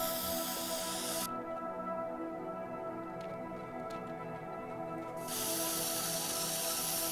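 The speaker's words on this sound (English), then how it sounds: "before I spray painted this part" Spray painting in the video game Teardown gives a continuous, broad hiss that stops abruptly for a few seconds and then resumes, steady and loud over a droning game background.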